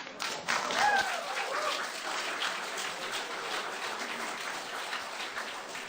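Audience applause at an all-candidates election debate on Pender Island, British Columbia, a broad steady wash of clapping filling the room for several seconds at moderate level, with faint voices underneath.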